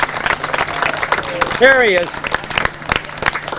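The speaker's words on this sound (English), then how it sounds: "So give him a long round of applause" Audience applause for a performer at a tribute event, steady clapping running throughout at moderate loudness while someone speaks over it.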